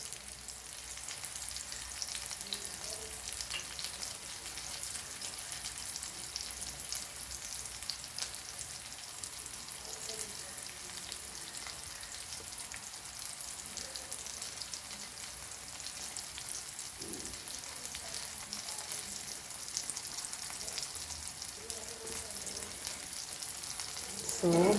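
Rock crab claws, about a kilogram of Goan khodpeo, fry in a pan with a steady, close crackling sizzle that runs throughout, with a few faint stirring knocks.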